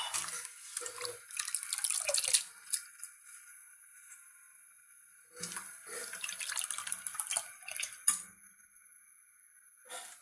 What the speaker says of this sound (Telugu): చిన్న చిన్నగా కోసుకున్న గోంగూర ఉంది కదా దాన్ని శుభ్రంగా కడిగేసుకొని